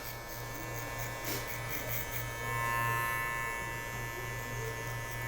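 An electric hair clipper buzzes steadily while cutting a bald fade, a close, continuous motor drone with a brief break partway through.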